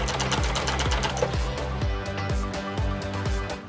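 A sewing machine stitches a casing onto fabric in a straight seam, running continuously up close with a fast, even rhythmic chatter.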